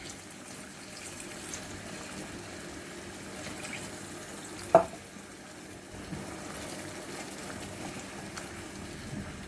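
A cup of water poured into a pot of stewing pork, giving a soft continuous trickle and splash with a faint sizzle beneath, and one brief clink partway through.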